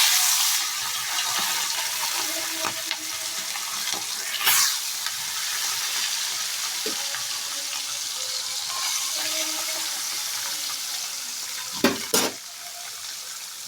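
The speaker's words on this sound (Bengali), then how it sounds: "তেলও গরম হয়ে গেছে, আমি তেলের মধ্যে মাছগুলো দিয়ে দেবো। আমি মাছগুলো অল্প অল্প করে ভেজে নেব।" Small morola fish fry in hot oil, a continuous bright sizzle that holds steady throughout, broken by a few sharp clinks and stirring scrapes near the end.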